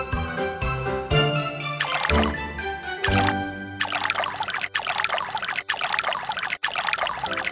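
Cartoon water pours to rinse a mouth in the Pororo dentist video game, a bright trickling, splashing pour over playful game music, lasting several seconds.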